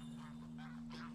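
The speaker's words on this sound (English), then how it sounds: "Just heard some geese" Geese honking in The Last of Us video game, a few faint calls rising over a steady low hum of game ambience.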